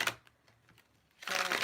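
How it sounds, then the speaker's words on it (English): A deck of tarot cards is riffled and shuffled close by, a brief crisp flutter at the start, a quiet gap with light taps, then a longer fuller riffle, all within under two seconds and with no speech. "let's just shuffle your deck"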